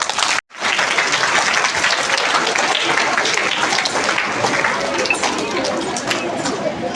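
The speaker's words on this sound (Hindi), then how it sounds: "हम करतल ध्वनि से स्वागत करेंगे। एक बार जोरदार तालियां।" Audience applauding at a school's first annual function, welcoming the guests: loud, dense, sustained clapping from a large crowd, with a brief gap near the start and chatter mixed in.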